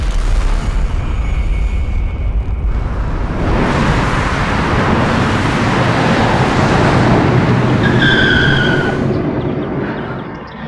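In a Crime Patrol TV crime drama, a car is driven fast with a loud, sustained roaring rush that swells and fades over ten seconds. A faint tonal squeal near the end suggests skidding tyres.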